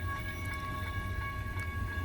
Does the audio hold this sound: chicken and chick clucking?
no